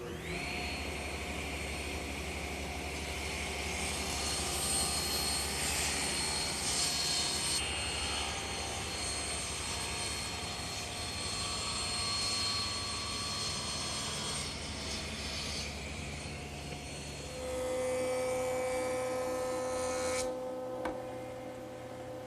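A table saw fitted with a taper jig rips wood stock for a gardener's workbench. A loud, continuous motor whine with the blade biting steadily through the board, its tone shifting near the end as the cut finishes, with no voices.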